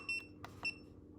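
A few short, faint electronic beeps sound in quick succession from a Typhur Sync One wireless meat thermometer alarm, in an otherwise quiet room.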